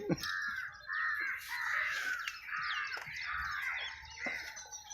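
Crows caw repeatedly outdoors near a fishing boat trip, harsh calls coming in an irregular series over steady background noise, some close and some overlapping, with no talk.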